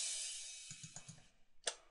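A crash cymbal sample from a song recreation in FL Studio rings out in a long bright wash that slowly decays, followed by a few soft low thumps and a sharp new crash hit near the end, with no voices.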